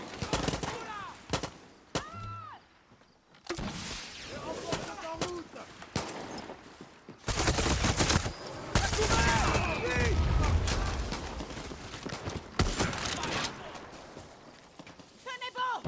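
Gunfire in the video game Far Cry 6 comes as scattered sharp shots and short bursts amid clattering game effects, with someone talking over much of it.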